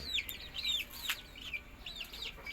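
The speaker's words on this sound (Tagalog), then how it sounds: "Magpapakain lang muna tayo ng mga sisiw natin mga kanukis." Young chicks at feeding time, given Integra 1000 feed, give a quick series of thin, high, rising-and-falling peeps close to the microphone over a quiet background.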